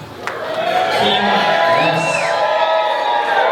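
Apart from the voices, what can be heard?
wedding guests applauding and cheering after best man speech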